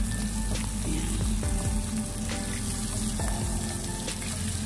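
Squid and prawns frying in oil in a pan, a loud continuous close sizzle with scattered pops and the clink of a utensil, no talking.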